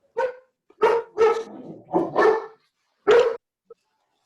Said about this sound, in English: that dog has something to say